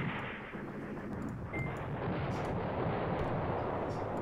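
Mortar bombardment in the Command Ops 2 war game, a dense continuous rumble of distant shelling and explosions, heavy and steady throughout with no voices.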